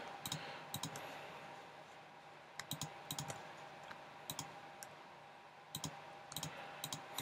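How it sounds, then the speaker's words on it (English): Sharp computer mouse clicks come in small clusters of two or three while files are picked in an export window, close and fairly quiet over a steady low room hum. "I need to click some files."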